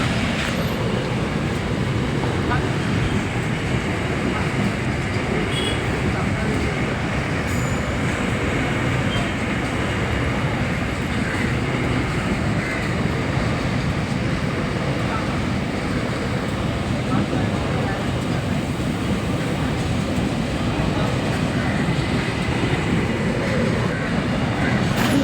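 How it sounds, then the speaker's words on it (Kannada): A long train rolls past at a level crossing with a steady, continuous rumble and clatter lasting the whole time, while people nearby talk. "ಟ್ರೈನ್ ಬರ್ತಾನೇ ಇದೆ ಇನ್ನೂ"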